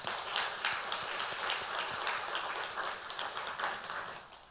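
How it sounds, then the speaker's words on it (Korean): A church congregation applauds together, a steady wash of many hands clapping at even strength that tapers slightly at the end, fairly distant and alone. "여러분, 우리가 그분들에게 박수 한번 보내주시기 바랍니다"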